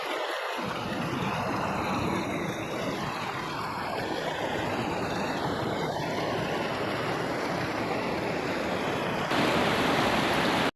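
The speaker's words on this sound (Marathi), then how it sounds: "ही शयोक नदी आहे" The Shyok River in Ladakh rushes past in a loud, continuous roar of churning water, steady and close throughout, with a brief shift in tone near the end.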